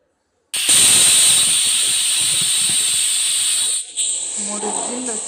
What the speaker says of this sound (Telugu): కుక్కర్ విజిల్ పెట్టి 3 విజిల్లు వచ్చేంత వరకు ఉంచండి.